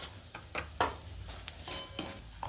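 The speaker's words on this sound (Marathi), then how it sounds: "मटकी व मसाले सर्व मिक्स करून घ्यायचे।" Moth beans and spices being stirred in a kadhai with oil, a spoon scraping and knocking against the metal pan in quick irregular strokes, faint and close, with a light sizzle underneath.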